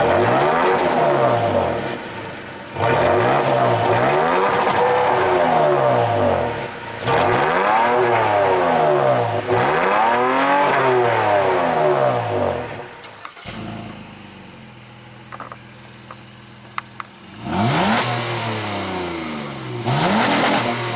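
A 2017 Honda Ridgeline and a 2016 Toyota Tacoma, both V6 pickup trucks, revved one after the other in repeated loud surges that rise and fall in pitch. A quieter idle stretch precedes a final rev.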